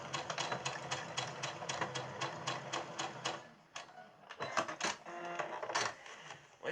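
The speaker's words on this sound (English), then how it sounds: "So I'm sewing this green fabric. I'm sewing it down" A sewing machine stitches green fabric in a fast, steady, close-up mechanical rhythm, then slows briefly and picks up again in shorter bursts.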